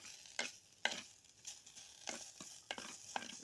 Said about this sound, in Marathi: आता आपण हे कांदा करपायला टाकले